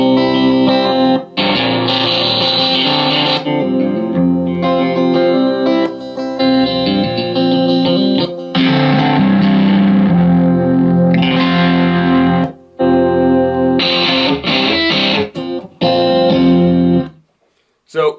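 A guitar run through a multi-effects processor cycling heavy distortion presets, thick saturated chords and riffs with chorus and reverb, loud and close in several bursts separated by brief pauses.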